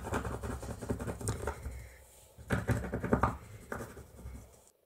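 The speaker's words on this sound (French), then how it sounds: "j'ai pris une pièce et je viens simplement gratter" Coin scrapes across a homemade scratch card to uncover a hidden message, quick rough scratching strokes in bursts with a brief pause in the middle, close and fairly faint.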